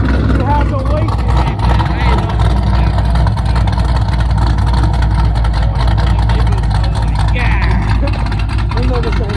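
A race car engine idles loudly and close, a low rumbling drone that runs steadily throughout, with people talking over it.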